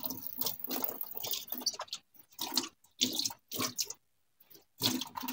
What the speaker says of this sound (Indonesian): Kita cuci dulu daun bawangnya sampai bersih. Kita cuci satu persatu biar bersih.